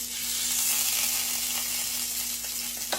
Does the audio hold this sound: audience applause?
no